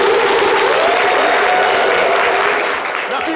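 Sustained audience applause from a crowd at a live French midday entertainment show, dense and loud throughout, fading slightly near the end.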